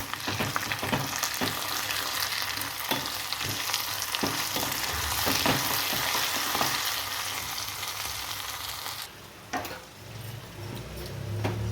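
Sesame seeds, cumin, curry leaves and dried chillies sizzle steadily in a hot pan of oil for a gongura curry, a dense continuous crackle with small pops and a few stirring clicks near the end.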